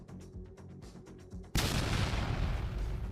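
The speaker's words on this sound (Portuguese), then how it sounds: "Sua esteira é rasgada pela explosão." An anti-tank mine detonates beneath a Russian tank, a sudden loud blast that rolls into a long, dense roar and rumble after a stretch of sharp, repeated cracks.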